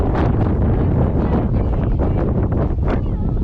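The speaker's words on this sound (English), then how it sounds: "it's extremely windy" Loud, steady coastal wind on the South Coast of New South Wales buffets the microphone throughout, a constant roaring rumble with no pauses.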